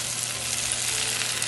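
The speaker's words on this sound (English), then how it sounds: "Hear that? That's the sound of a sizzling love story." Eggplant sizzles in a pan of olive oil over low-medium heat, a steady loud frying hiss and crackle, close up with no talking.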